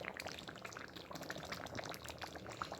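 Rava stirred into a pot of boiling water for mixed vegetable wheat upma, a steady bubbling, sizzling simmer with faint scraping throughout, close and fairly quiet.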